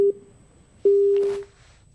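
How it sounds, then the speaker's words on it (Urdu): A telephone busy tone sounds after a dropped call on a call-in broadcast, a short beep followed by a longer steady tone, clear and close against near silence with faint noise between. "کال ڈراپ ہو گئی."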